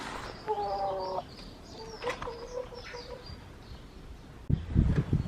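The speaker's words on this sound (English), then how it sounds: "Just checking on the chickens" Backyard hens clucking in a garden coop, with a few clear close calls in the first half, quieter clucks after, and a burst of louder scratching or rustling near the end.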